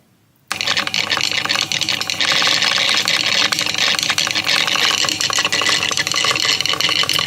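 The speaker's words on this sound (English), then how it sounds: "Let's turn on the three-phase power now and watch the disc spin and rise up at the same time" A three-phase AC Lenz levitation rig switches on after a brief silence and spins a disc that rises at the same time, giving a loud, steady electrical hum with a dense broadband whir that holds unbroken to the end.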